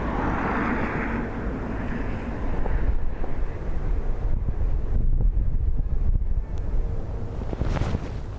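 Strong storm winds of Storm Bram buffet the microphone at Dublin Airport, a steady roaring rush with heavier gusts through the middle and a low rumble underneath.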